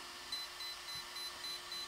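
A Hobbywing XR10 electronic speed controller beeps during calibration, a high electronic tone repeating at a steady pace, six short tones evenly spaced against a quiet background hum.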